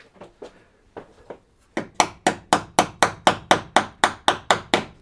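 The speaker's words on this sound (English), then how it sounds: "Let me get a hammer," Small hammer tapping clips into place on a BMW M3 grille: a few scattered light knocks, then a fast, even series of about a dozen sharp, close taps.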